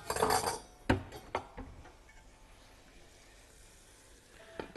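A metal lid clanks down onto a cooking pot of simmering vegetables, one sharp clatter followed by a couple of smaller knocks, then quiet low sizzling.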